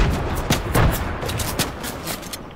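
Video game gunfire in a live-streamed shooter match: a rapid scatter of sharp shots and bursts, some louder and closer, others fainter, popping irregularly over a couple of seconds.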